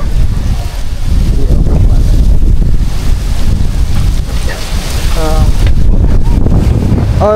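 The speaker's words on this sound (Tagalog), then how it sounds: "Grabe mga katuba, lakas ng hangin oh" Strong wind buffets the microphone in loud, continuous gusts, with faint creaks and a brief voice in the background.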